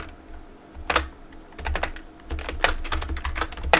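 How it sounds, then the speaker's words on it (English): Keys on a computer keyboard are tapped in quick irregular clusters, close and clear, with short pauses between bursts and no talking. "let's go ahead and type 4 commas here to leave some of these values undefined."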